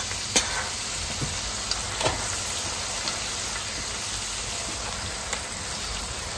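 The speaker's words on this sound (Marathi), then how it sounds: "गरम मसाला, ते पण लाल करून घेते हलका गॅसवर" Malvani garam masala frying over a low flame gives a steady, close sizzle with occasional spatters and stirring clinks from a utensil against the pan, and no talk.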